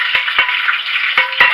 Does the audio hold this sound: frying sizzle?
yes